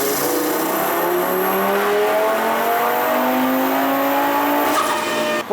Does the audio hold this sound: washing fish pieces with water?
no